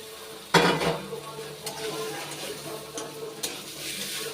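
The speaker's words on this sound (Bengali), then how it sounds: "এবার এর মধ্যে আমি দিয়ে দেবো আগে থেকে ভেজে নেওয়া পটল।" Pre-fried pointed gourd pieces go into a pan of well-cooked spice paste for a Bengali tel potol curry, with a sharp clatter and sizzle, then steady frying and stirring scrapes and occasional utensil knocks, close and moderately loud.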